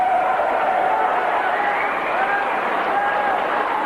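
A snooker crowd applauding and cheering a 147 maximum break by the world champion, Stephen Hendry; steady, dense clapping fills the arena throughout.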